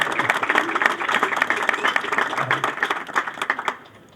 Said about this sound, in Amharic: አጨብጭቡልኝ በእናታችሁ።